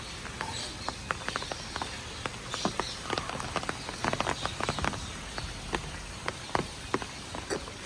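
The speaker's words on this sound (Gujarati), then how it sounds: "વરસાદ" Heavy rain falls during a Navratri night, a dense patter of sharp drops striking surfaces close by, steady and fairly loud throughout with no voices.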